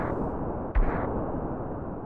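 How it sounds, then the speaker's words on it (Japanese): A single brief explosion blast in the video game Breath of Fire: Dragon Warrior, a short dull boom rising from steady background game sound. "なんや、あの爆音は。"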